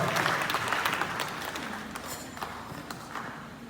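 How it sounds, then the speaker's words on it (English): Applause for Madam Fatu at a skills centre graduation ceremony, a burst of loud hand clapping from the audience that gradually thins and softens. "please put your hands together for Madam Fatu one more time"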